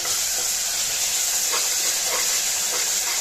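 Tomatoes sautéing in a pan for veg soya biryani give a steady, close hiss and sizzle with a few soft stirring scrapes, and no voices.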